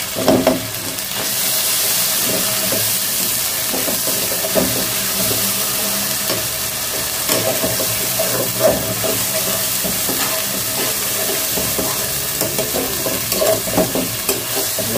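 Ginger, garlic, cumin and coriander spice paste frying in hot oil for a Bikrampur-style chicken and potato curry, giving a loud, steady sizzle with stirring scrapes throughout, no voices.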